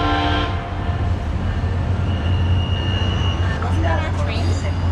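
A SunRail commuter train rumbles past with a heavy, continuous low roar, and a brief horn blast sounds near the start over the passing noise.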